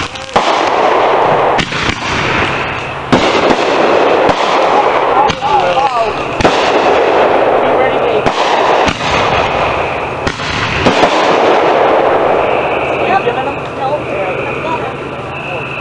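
Backyard fireworks go off in a string of sharp, loud bangs and crackles spread across the stretch, with people talking and calling out between and under the blasts.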